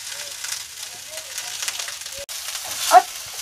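Sausages fry in a pan with a soft, continuous sizzle and crackle, alongside a few light clinks and a brief scrape, while a voice murmurs faintly in the background.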